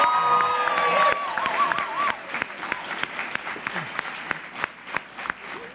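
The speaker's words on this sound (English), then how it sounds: "we've all got that applause out of our system" An audience at a 2018 Maryland State Senate candidate forum bursts into loud applause with cheers and whistles, then the clapping thins to scattered individual claps as voices murmur underneath.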